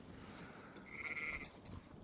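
A sheep on a farm bleats once, a short mid-pitched call rising over steady outdoor background noise, near and moderately loud.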